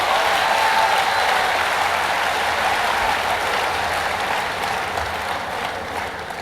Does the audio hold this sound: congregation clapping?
yes